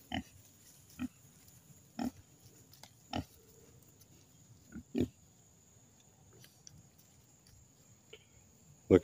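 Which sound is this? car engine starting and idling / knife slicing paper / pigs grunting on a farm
pigs grunting on a farm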